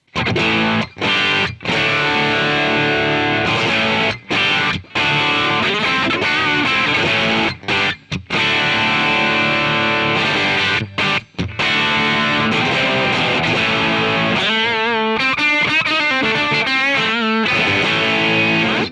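Electric guitar played through the Amplitube 5 Brit 8000 amp simulator on its default setup gives a loud, thick distorted tone, chords ringing with brief stops, then faster note runs near the end.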